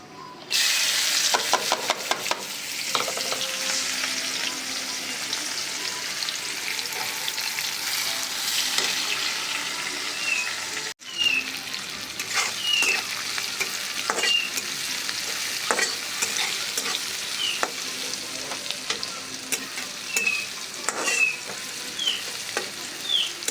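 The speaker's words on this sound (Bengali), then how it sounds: "আপনারা দেখতেই পাচ্ছেন আমার পেঁয়াজ ভাজাটা লালচে কালার হয়ে আসছে" Onions with bay leaves and green chilies crackle and sizzle in hot oil with a constant hiss, broken by frequent clinks and scrapes of a spoon stirring the pan.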